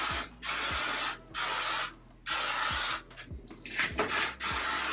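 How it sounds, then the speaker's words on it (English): Chi thermal protectant hair spray hisses out in about four steady, close bursts, each lasting roughly a second with brief pauses between them. "I'm gonna take this Chi thermal spray."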